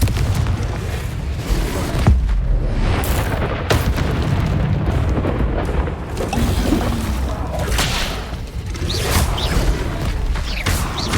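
Confringo spell explosions in Hogwarts Legacy: heavy, rumbling blasts with sharp bursts that pile up into a dense, continuous roar of booms and crackles, with no talking.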